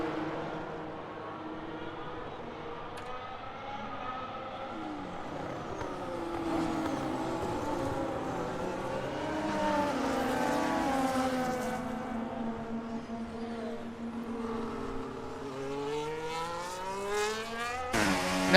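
A Ferrari Formula 1 car in the F1 2025 video game whines through the pit lane at the Chinese Grand Prix, its engine note rising and falling steadily, moderately loud, with a sharp burst at the end.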